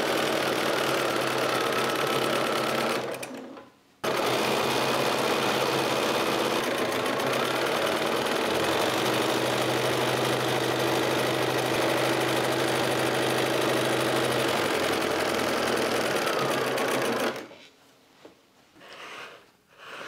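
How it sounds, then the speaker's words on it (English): A sewing machine runs steadily, stitching a quarter-inch seam along a quilt block, with a long continuous mechanical whir that stops briefly once and then ends near the close. "I will sew along with a 1/4" seam on the left side and on the right side"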